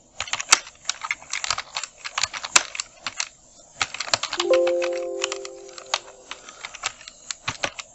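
Quick, uneven clicks of typing on a computer keyboard, bursts of keystrokes with brief pauses between them, close and crisp, with a short tonal chime partway through and no talking.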